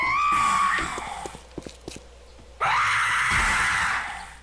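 A screaming zombie in 7 Days To Die lets out a long, loud, wavering shriek. It breaks off into scattered thuds and clicks, then returns as a second piercing scream.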